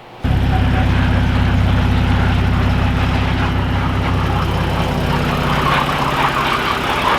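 Shelby Baja Raptor truck engine starting up into a loud, deep, steady rumble that holds a low idle throughout.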